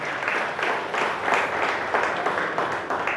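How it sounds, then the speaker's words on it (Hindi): A crowd at a Buddhist temple groundbreaking gathering claps for a singer, steady applause swelling in waves over about three seconds. "मैं चाहती हूँ इनके लिए बहुत जोरदार तालियां हो जाए"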